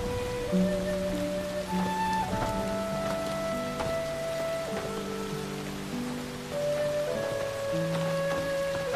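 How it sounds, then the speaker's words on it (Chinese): Steady rain falls in the background of a period drama scene, a soft continuous patter under a melodic music score, with no voices. "下雨了"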